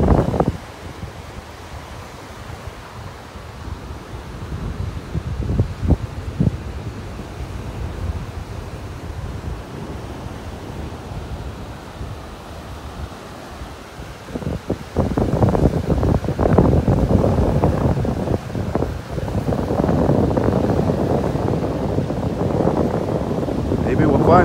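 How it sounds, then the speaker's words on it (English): Strong wind buffets the microphone in gusty rumbling bursts on a beach in North Naples, Florida, growing louder and more constant in the second half, with surf faintly underneath. "Windy out here this morning."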